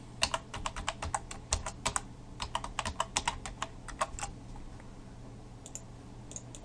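Typing login details on a computer keyboard: quick runs of crisp key clicks in bursts with short pauses, close and clear over a low steady hum, no talking.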